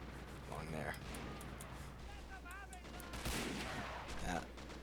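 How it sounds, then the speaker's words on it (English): Machine gun fire in the WWII strategy game Men of War: Assault Squad 2 at Tobruk, distant and mid-level bursts of gunfire mixed into a busy battle soundscape with steady background noise throughout. "No, that's not a mortar. It's an MG."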